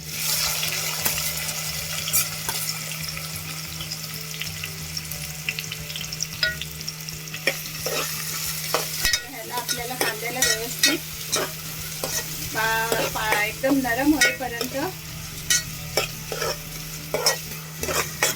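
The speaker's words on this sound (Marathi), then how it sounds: "त्याच्यात मी ले लसूण बारीक केले खेचून ती टाकते फोडणीला आणि तेजपत्त्याची दोन तीन पानं आणि कांदा" Finely chopped garlic, two or three bay leaves and onion hit hot tempering oil, giving a loud, close, continuous sizzle with frequent spatula stirring and scraping against the pan, with no talking.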